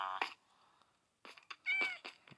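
Cat in a video game meowing in several short, fairly quiet calls, a couple of meows at the start, then a quicker cluster of three or four after a pause.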